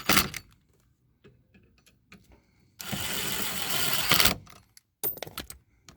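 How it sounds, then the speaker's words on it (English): A ratchet tightens Allen head bolts on a Jeep JKU grab handle, short bursts of fast clicking between quiet gaps and small metallic handling noises. "Now I'm just going to run them up tight, and I'll tighten them down with the ratchet."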